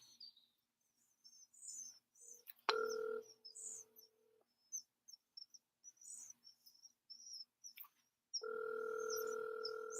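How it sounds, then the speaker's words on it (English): Electronic telephone ring tones sound in two bursts, one short tone near the start and a longer sustained ring at the end, with faint chirping insects or birds scattered through the quiet gaps. "Ringing."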